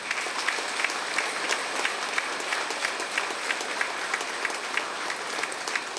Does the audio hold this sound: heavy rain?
no